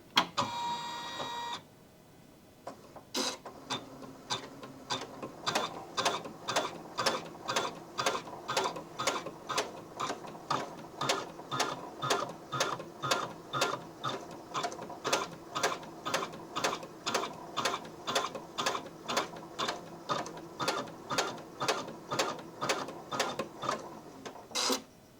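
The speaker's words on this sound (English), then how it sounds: "The machine did a long basting stitch around the edge" A Janome Skyline S9 sewing machine running a long basting stitch, a steady run of loud, evenly spaced mechanical needle strokes lasting over twenty seconds after a brief start-up, with no talking.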